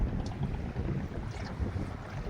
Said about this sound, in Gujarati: પવન જતો નથી.